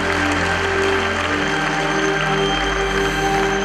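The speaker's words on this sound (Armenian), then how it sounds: "ես խնդրեմ ջերմ ծափահարություններ" Warm applause from an audience in the Aram Khachaturian concert hall at a concert, a sustained, even wash of many hands clapping, with faint steady tones ringing beneath it.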